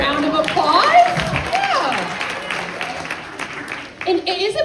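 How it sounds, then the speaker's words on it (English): Audience applause breaks out during a talk on gut health and the microbiome, a dense patter of clapping that carries on beneath a voice speaking over it. "I think that deserves a round of applause."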